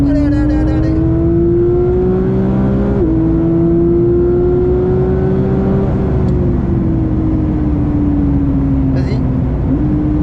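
A Porsche GT3 992.1 accelerates around the Spa circuit, a loud close engine drone climbing in pitch, dropping briefly at gear shifts, then climbing again, with an instructor talking over it.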